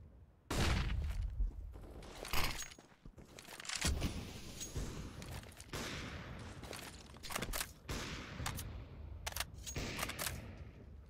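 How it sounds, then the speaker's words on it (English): Counter-Strike gunfire and a grenade on Dust2 during a competitive match: repeated sharp shots and bursts crackle in quick irregular volleys, with a heavier blast early on, fairly faint overall. "Nice nade from Omniscient."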